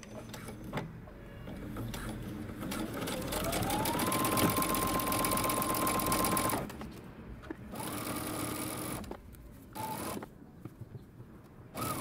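A sewing machine stitching a mini hoodie seam, running in a steady rapid whir for several seconds, pausing, then resuming in shorter runs, moderately close with no talk.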